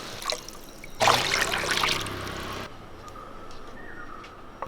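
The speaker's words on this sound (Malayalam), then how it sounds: "നമുക്കൊരു ഒരു കപ്പ് തേങ്ങാപ്പാൽ ഇട്ട് കൊടുക്കാം" A brief gurgling pour of coconut milk into a pot of rice lasting under two seconds, set against a quiet kitchen background.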